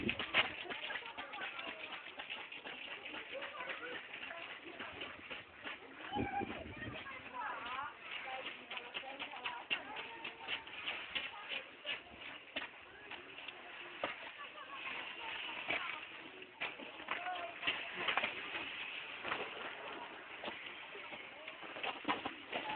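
Pigeons coo and flutter outdoors in snowy weather, a steady bird chorus running under someone talking to a child throughout.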